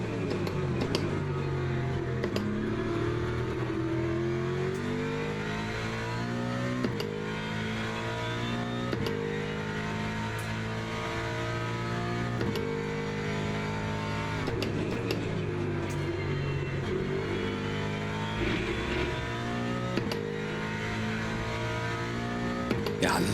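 Simulated Ford Mustang GT3 race car engine lapping Imola in Le Mans Ultimate, a steady loud harmonic drone rising and falling with shifts and throttle, continuous throughout with no talk.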